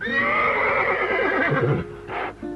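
A horse gives a loud, close whinny lasting about two seconds, a quavering neigh that falls away and ends in a short snort.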